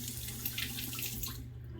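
Tap water runs steadily over a safety razor being rinsed under the faucet, a close, even splashing stream for under two seconds that thins out near the end.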